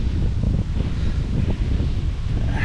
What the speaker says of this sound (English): I'm having fun in the wind here